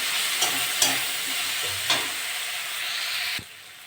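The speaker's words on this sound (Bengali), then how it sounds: "আদা রসুন বাটা 1 চামচ দিয়ে দেবো। নেড়ে চেড়ে ভেজে নেব।" Onion frying with ginger garlic paste in a pan, steady close sizzle broken by several scrapes and knocks of a spoon stirring, ending in a sharp clack.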